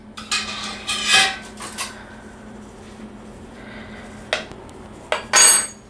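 A small spoon scrapes and clinks against a casserole dish as mirliton casserole is spread and evened out, giving several short bursts of clatter separated by quieter pauses.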